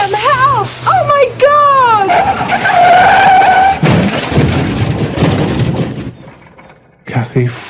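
A lorry's tyres squeal and skid loudly in a sharp rising screech, followed by a rough crashing noise as a bicycle hits the side of the lorry, then fading into quiet before a brief jolt.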